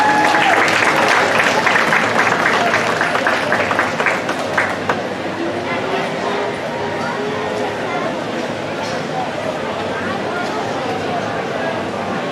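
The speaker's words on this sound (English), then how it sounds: "Please give a big round of applause for our judge today." Applause from the audience at a dairy and beef show ring, loud and dense clapping at first, easing after about five seconds into a steady crowd murmur that carries through the rest.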